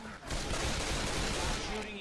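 Gunfire in the Left 4 Dead 2 video game, a dense, loud, sustained burst of rapid shots forming a continuous roar, close up, with game voices mixed in underneath.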